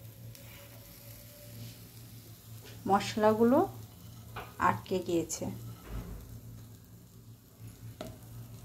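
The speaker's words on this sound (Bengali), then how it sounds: "চাকগুলো হালকা করে ভেজে নেব" Eggplant slices frying in a pan with spices, giving a steady soft sizzle that runs under a voice speaking in bursts near the middle.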